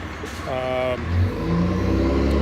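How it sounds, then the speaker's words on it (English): A heavy dump truck engine rumbles loudly and steadily nearby, with a rising whine as it revs, while a person talks over the noise at a residential landscaping job. "I got that loud dump truck behind me"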